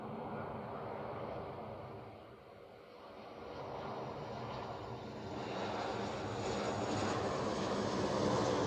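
A Royal Air Maroc airliner at Zurich Airport produces a loud, continuous jet-engine roar. The roar dips slightly midway, then swells and stays strong to the end, with no voices over it.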